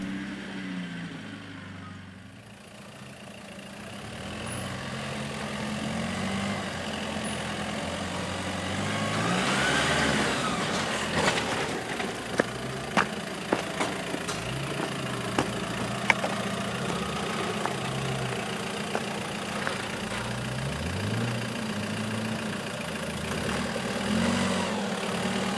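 Several 4WD engines, including a Jeep TJ, Defender, Hilux and Patrol, idle and rev in the open air off-road, with rising and falling pitch and occasional sharp clicks or knocks, no voices.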